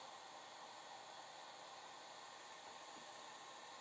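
Steady, loud hiss and whir of a dryer blowing air continuously to dry watercolor paint on a canvas coated with watercolor ground, alone without talk.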